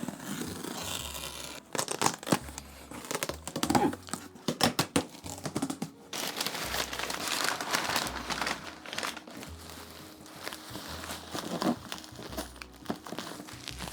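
A wrapped shipping package holding anime figures being opened, with crinkling and crumpling wrap, ripping and tearing, and scratchy handling noises running almost without pause, close and loud, no talking.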